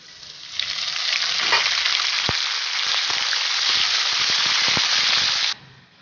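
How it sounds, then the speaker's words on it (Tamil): Cashews and curry leaves fry in a pan for a South Indian ven pongal tempering, a loud steady sizzle that swells in quickly and holds for about five seconds with sharp pops and crackles before cutting off abruptly. "முந்திரி கொஞ்சம் பொன்னிறமாக ஆகட்டும். கருவேப்பிலை போட்டுக்கலாம்."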